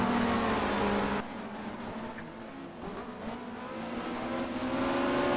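Race cars, a Ferrari and a McLaren, roar past on the Barcelona circuit in a touring-car race. Loud, droning engine notes shift in pitch after an abrupt cut, with no talking.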